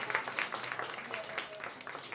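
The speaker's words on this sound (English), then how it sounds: "y'all give my comedy partners a round of applause one more time" Audience applause for comedians at a comedy show: a steady wash of clapping from a crowd, moderately loud and continuous, with some voices mixed in.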